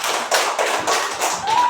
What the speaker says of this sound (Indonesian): Beri tepuk tangan dulu ke kita semua.